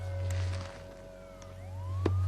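Police sirens wail in a gritty city at night, a rising and falling electronic siren sounding distant and faint over a low rumbling backdrop.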